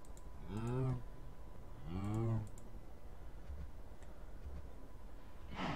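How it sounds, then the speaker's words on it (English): Two drawn-out, low mooing calls from a Minecraft cow, each about a second long with a rising then falling pitch, separated by a pause over faint keyboard clicking in the background. "Why are you mooing at me?"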